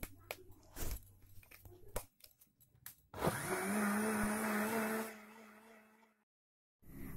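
A blender whirs steadily for about two seconds as it mixes ground guava with buttermilk into lassi, after a few scattered knocks and clatters in the kitchen; the motor then winds down and goes silent.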